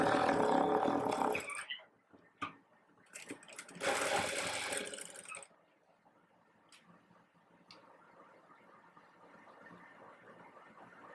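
A sewing machine stitches the lining of a sleeveless dress in two close, steady whirring runs separated by a pause, then gives way to faint clicks and quiet handling.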